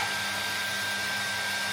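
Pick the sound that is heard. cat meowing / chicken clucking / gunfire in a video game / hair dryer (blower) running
hair dryer (blower) running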